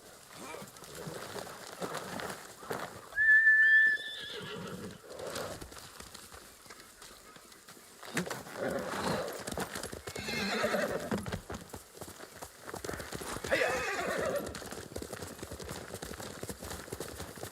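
A horse whinnies and hooves clip-clop intermittently over a faint ambient background in Ghost of Tsushima, with a brief high tone in between.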